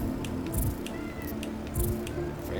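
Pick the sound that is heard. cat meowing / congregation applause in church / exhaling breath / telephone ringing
cat meowing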